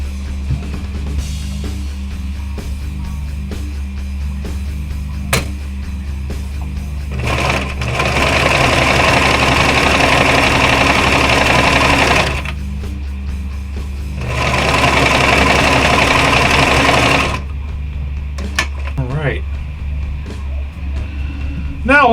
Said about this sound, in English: we're going to want to take our sewing machine and sew along these edges with a zigzag stitch